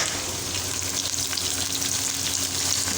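Chopped onions sizzling and frying steadily in hot oil in a pan while being browned for gola kabab gravy, a dense continuous crackle close up with no talking.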